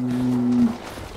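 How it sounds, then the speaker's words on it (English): A bull in a video game lets out a single loud, steady moo that cuts off abruptly, followed by a low rumble. "Oh, it's a bull!"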